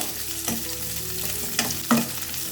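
Cut dry red chillies fry in a pan with other ingredients as they are stirred, a steady close sizzle broken by a few sharp scraping strokes of the spoon, with no talking.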